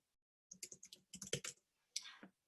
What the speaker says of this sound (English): Then I will type my heading.